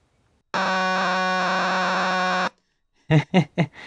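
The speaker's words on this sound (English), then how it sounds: "In this case, we've got kind of a higher pitch tone, if you listen." A steady, buzzy, high-pitched electronic tone from a circuit-bent Yamaha PSS-130 keyboard holds for about two seconds and cuts off abruptly, followed by a few short, sharp bursts.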